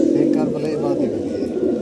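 Fancy pigeons in a loft coo in a steady low, throaty murmur that runs throughout, close by, with people talking faintly alongside.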